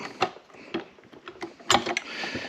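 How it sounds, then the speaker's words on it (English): A wrench snugs a bolt on a retractable air hose reel's swivel fitting, giving close, irregular metallic clicks and ratcheting scrapes in short bursts, with a sharper cluster of clatter near the end. "And then snug that bolt up."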